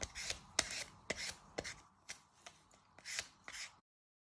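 A peeler scraping the skin off a sweet potato, a series of short, quiet rasping strokes in an irregular rhythm, close up with no talking.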